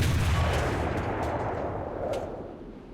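FV4005 183mm HESH cannon firing in War Thunder: one huge, heavy boom at the start whose deep roar slowly decays over a few seconds, loud and close, with no talking.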